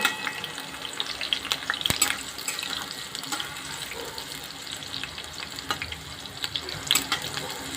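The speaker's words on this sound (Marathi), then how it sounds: "मिरची टाकतो आपण आता, थोडीशी फ्राय करून घ्यायची" Green chillies frying in hot oil, a steady crackling sizzle with sharp spitting pops throughout, close and moderately loud, with no one talking.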